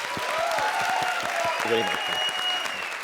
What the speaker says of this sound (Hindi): एक बार जोरदार तालियां श्री के लिए।